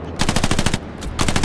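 Rapid machine gun fire in the World War II shooter Hell Let Loose, two loud sustained bursts of quick evenly spaced shots separated by a short gap, close and dominant with no talk over it.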